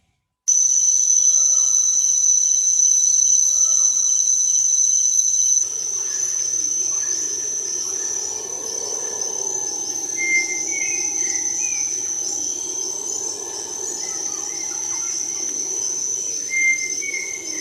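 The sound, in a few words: played recording of jungle: crickets, cicadas, birds, howler monkeys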